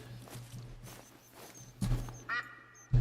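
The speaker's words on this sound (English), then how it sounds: "I hear ducks." Ducks quacking faintly in the distance in the hunting game The Hunter Call of the Wild, a few short calls over soft footsteps and ambient outdoor noise.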